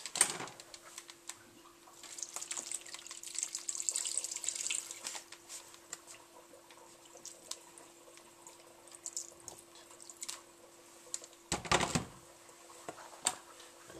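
Hot water runs from a kitchen tap onto saltfish in a sink, a faint, uneven splashing with clinks and knocks and a steady hum, with no voices.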